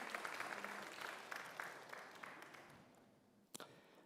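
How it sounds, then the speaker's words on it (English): Audience applause at the 10th ABU Media Summit in Bhutan, a broad steady clapping that fills the room and then fades out toward the end, where one short sharp knock stands alone. "Can we please have a big round of applause for the 10th ABU Media Summit right here in Bhutan."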